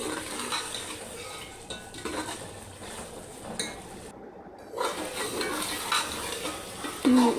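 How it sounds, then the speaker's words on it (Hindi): A spoon stirs potato and spinach masala in oil in a pan, with scraping and clinking over a faint sizzle, close up, broken by a brief gap, and no voices. "देखें, चम्मच हिलाते रहें,"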